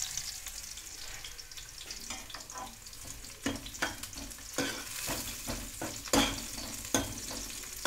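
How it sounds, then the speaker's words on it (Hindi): Onions browning in a pan for baingan bharta in a Punjabi village kitchen, a steady sizzle broken by repeated scraping stir strokes, close and moderately loud with no talk. "ये प्याज पावे, प्याज में बिल्कुल हल्का ब्राउन करा"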